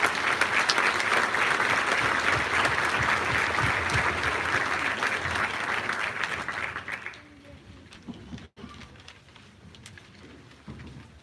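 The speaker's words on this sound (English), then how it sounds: "Let's give a round of applause for the" An audience at a high school academic achievement awards ceremony applauds loudly and steadily for several seconds, then the clapping fades to scattered claps and room noise.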